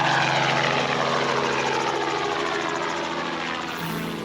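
Loud, steady drone of a helicopter engine and rotor close by, continuous throughout without voices.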